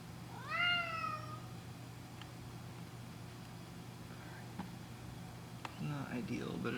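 A cat gives a clear, drawn-out meow near the start, then a shorter, softer call later, over a low steady hum with faint clicks and rustling nearby.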